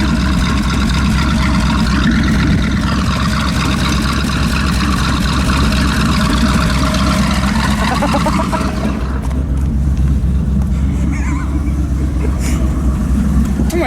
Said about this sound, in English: Oh yeah, redneck shaker exhaust.